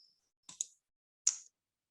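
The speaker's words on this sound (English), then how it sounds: "just left click on the PowerPoint and use your right arrow on your keyboard" Computer mouse click and keyboard arrow key presses: three or four sharp, close, dry clicks spaced out over a few seconds in an otherwise silent room.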